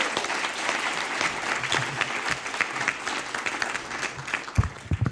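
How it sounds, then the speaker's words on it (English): An audience at a public forum on education applauds a moderator, a loud, uneven burst of many hands clapping that carries on for several seconds with a few sharper, heavier claps near the close. "ask a round of applause for a great job of refereeing"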